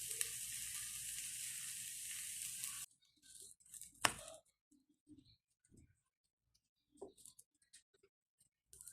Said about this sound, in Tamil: இப்போ திருப்பி போட்டு இன்னும் 1 மினிட்டு வேக வச்சு நான் எடுத்துக்கிறேன்